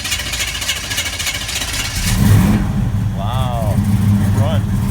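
A vehicle engine is started with a key after two switches are flipped and the gas is given a little, catching into a low rumbling idle, with brief squeaky sounds over it and no speech.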